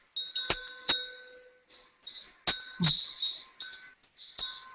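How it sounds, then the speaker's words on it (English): A small African handmade bell rings several times in an uneven rhythm, each bright metallic strike ringing out and fading before the next. "It's an African handmade bell that I found at a festival in England."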